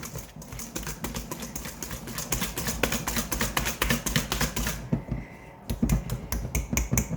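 A thick almond cream batter for a pear tart is worked by hand in a bowl, giving a steady run of rhythmic, close beating and scraping strokes with a brief lull near the end, and no talk.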